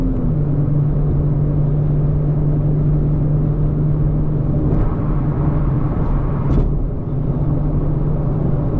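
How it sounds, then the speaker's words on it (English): Steady, loud low rumble of road and engine noise inside a 2024 Nissan Z Nismo sports car at highway speed, with a constant drone and no talking. "listen for how loud it is inside this car at these highway speeds"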